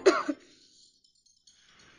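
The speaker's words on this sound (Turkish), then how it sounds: "Öksür bakayım." A single short cough at the start, followed by a quieter second burst, given on a doctor's request during a home examination of a patient; near and dry, then silence with faint room noise toward the end.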